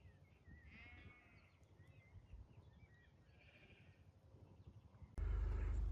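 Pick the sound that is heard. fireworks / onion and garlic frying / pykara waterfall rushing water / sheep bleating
sheep bleating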